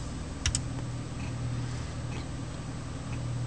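A couple of quick, close computer mouse clicks over a low steady room hum, with faint keyboard-like tapping and a quiet background drone.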